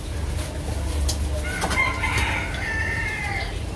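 Chickens cluck and a rooster crows amid a rural Vietnamese household setting, the crow rising clearly around the middle of the clip over steady low background noise and soft clucking.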